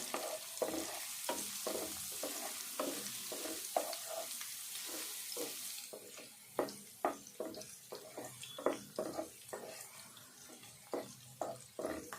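Crushed garlic sizzles and fries in a pan for chicken fry, steady crackling with repeated stirring scrapes at a regular rhythm, fairly quiet and close with no voices.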